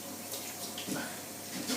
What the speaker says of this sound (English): I'd just put a little bit of warm water through it.